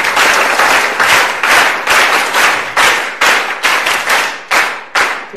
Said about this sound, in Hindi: जोर से एक बार ताली बजा दो इस बच्चे के लिए।